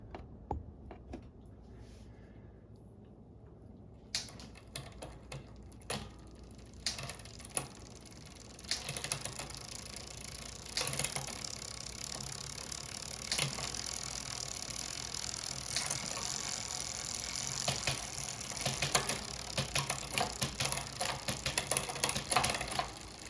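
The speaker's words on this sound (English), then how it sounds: "let's go ahead and take a look and see how it's shifting" A bicycle drivetrain ticks and clicks as the derailleur shifts through the gears after a derailleur hanger replacement, with a ratcheting freewheel whir and chain clatter growing steadier and louder over time, close up and without speech.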